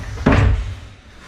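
A sliding door on a modular cabinet is pushed once, giving a quick rolling slide that ends in a soft bump, close by with no talking.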